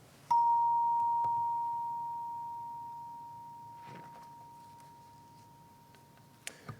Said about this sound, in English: So I will ring the bell, and we will worship together.